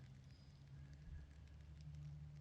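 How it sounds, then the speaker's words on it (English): Light drizzle falling outdoors during a turkey hunt, a faint, soft steady patter and hiss with a few small drop ticks, quiet and distant-sounding with no voices. "As you can probably hear, it's drizzling."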